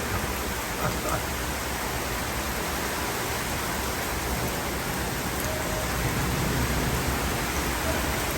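Heavy rain pours down onto a flooded deck in Orlando, making a dense, even hiss that stays steady throughout with no letup.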